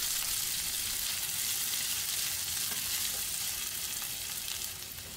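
Onion added to browned garlic in a pan sets off a loud, dense, continuous sizzle of frying that holds steady and eases slightly at the end, heard close with no talking.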